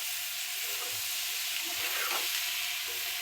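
Chickpeas sizzling and frying in a pan while being stirred, a steady close hiss with soft scraping from the spoon and no speech.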